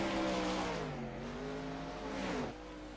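A 410 sprint car racing on a dirt track, its engine roaring with rising and falling pitch as it accelerates, loud and close, then dropping off sharply near the end.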